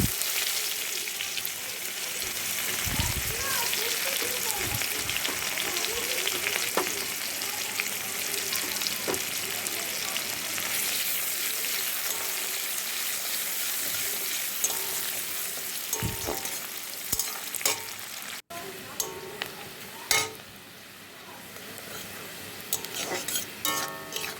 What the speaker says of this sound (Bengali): এবার কেটে রাখা পেঁয়াজগুলো ভেজে নেব